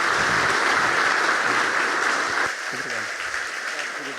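A church congregation at a convention gives a sustained round of loud, dense applause that drops off partway through, with a voice speaking over the thinning claps.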